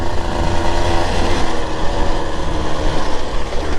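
A Husqvarna TE 150 TBI dirt bike runs loud and steady on the pipe, with a close, continuous buzzing engine drone and no speech over it.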